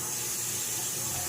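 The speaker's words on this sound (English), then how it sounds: "I'm going to run this one under cold water." Cold water runs from a kitchen tap over a hot boiled egg, a constant faint hiss of flowing water filling the short clip with no voices.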